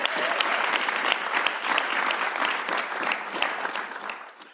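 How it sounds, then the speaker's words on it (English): A room of attendees at a pitch challenge gives a round of applause for the judges and finalists, dense steady clapping from many hands, moderately loud, tapering slightly at the end. "let's give a round of applause to the judges and to our general track finalists."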